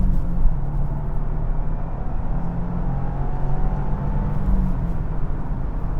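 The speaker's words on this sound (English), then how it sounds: "The engine's super smooth. Very, very smooth. Likes to build power." A 2025 Subaru WRX tS all-wheel-drive sedan's engine pulls steadily as it gains speed, a smooth continuous drone heard from inside the cabin at moderate loudness.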